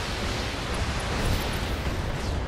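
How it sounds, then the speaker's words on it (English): An ammo explosion on a mech in the BattleTech video game, heard as a loud, sustained roaring blast of broadband noise that rumbles on without a break. "Oh, ammo explosion."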